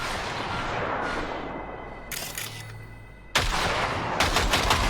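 Gunfire in the video game Cyberpunk 2077, dense bursts of loud cracking shots and heavy booming blasts over a constant roaring din, with a brief lull before firing resumes even louder.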